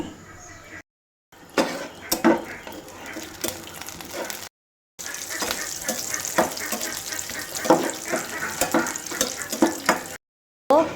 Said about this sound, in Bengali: ঘিটার মধ্যে বাদামটা আর কিশমিশটা ভেজে নিব।